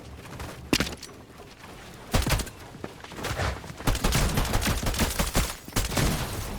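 Gunfire in a video game, with a small pistol involved: several separate loud bursts of shots spread over the stretch, some sharp single cracks and some quicker clusters, close and prominent.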